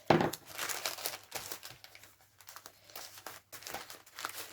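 Paper being scrunched by hand to shape a paper mache Mexican sugar skull, giving close, irregular crinkling and crackling bursts with short pauses between them.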